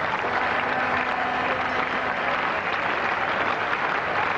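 Cricket crowd at a 1984 England versus West Indies Test applauds as England reach 50 runs, a steady, even wash of distant clapping that holds at one level throughout, with no talk over it.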